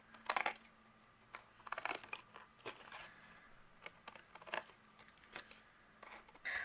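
Scissors trim excess material from a glued craft piece, making quiet, close snips and crisp cuts in an irregular run with short pauses between them.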